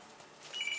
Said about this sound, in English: Excuse me, it's a phone.